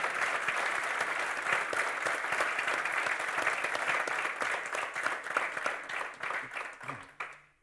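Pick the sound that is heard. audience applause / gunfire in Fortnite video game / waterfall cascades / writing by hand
audience applause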